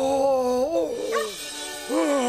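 Cartoon dog from Fireman Sam barking and yelping in a few melodic, voiced bursts, close and clear, with a short pause between them.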